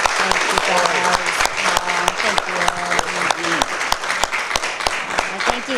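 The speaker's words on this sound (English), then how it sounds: "can we give her a standing applause?" Loud, dense applause with sharp claps throughout, while voices talk and call out over it.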